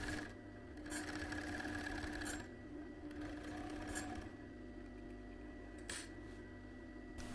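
Overlock serger sewing machine stitching a seam with three needles, giving a steady rapid mechanical whir in bursts of a second or two, close and quiet, with short pauses between runs and no talking.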